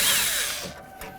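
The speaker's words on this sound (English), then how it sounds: "Let's remove this bolt." A power tool spins a bolt out of the door panel of a 1988–2002 GMC Sierra 1500, one brief whirring burst, close and fairly loud, falling off toward the end.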